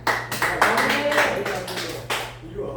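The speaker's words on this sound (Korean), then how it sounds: "이용 목사님 박수 한번 쳐주시죠." A church congregation claps during a worship service, a series of irregular claps and taps over a low steady hum, with people talking through them.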